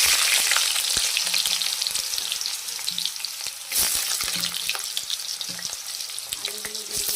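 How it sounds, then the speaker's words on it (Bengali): Potatoes frying in hot oil for a pabda and bhola fish curry with cauliflower, a steady dense sizzle and crackle throughout, broken by a few sharp clicks and scrapes of stirring, with no talking. "আলুটা একটু ভাজা হবে, তারপর পেঁয়াজ আর ফুলকপিটা দেবো"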